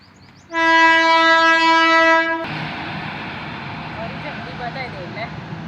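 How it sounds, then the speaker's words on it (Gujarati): A loud, sustained train horn blares for about two seconds, then gives way to the rumble and clatter of an approaching train. "ટ્રેન આવે છે"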